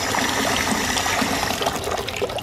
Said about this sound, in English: Now I'm gonna go fill this up with super hot water.